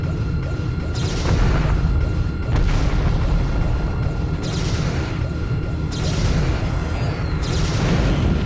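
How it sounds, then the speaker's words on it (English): Goa'uld main weaponry firing in Homeworld 2 with a Stargate mod, a run of loud, heavy booming shots with crashing bursts repeating every second or two over a dense rumbling battle backdrop. "the noise doesn't sound completely right for the Goa'uld main weaponry"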